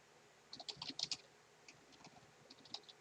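Quiet bursts of clicking keystrokes on a computer keyboard, typed in short irregular runs with pauses between them, close and soft, with no speech.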